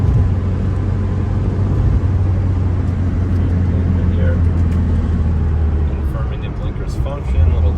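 A 1973 BMW 2002 engine drones loud and close from inside the cabin while driving, with a slight change in pitch near the end as it downshifts, and a person talking over it.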